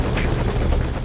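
A helicopter in Metal Gear Solid V flies close and loud, its rotor chopping in a fast steady thud over a broad engine roar throughout.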